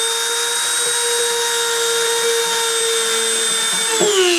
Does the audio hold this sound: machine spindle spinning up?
yes